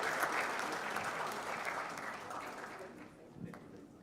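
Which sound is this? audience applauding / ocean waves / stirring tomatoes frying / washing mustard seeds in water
audience applauding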